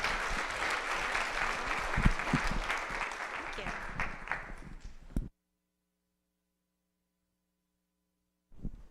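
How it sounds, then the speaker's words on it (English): An audience at a data innovation conference in Boise applauds a panel with dense, sustained clapping that fades after about five seconds, followed by near silence with a low hum, then a brief return of sound at the end. "let's give the panel a round of applause"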